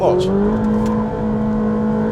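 A Ferrari 458 Speciale engine roars under open throttle on track, a loud, close, sustained tone climbing in pitch, with someone speaking over it.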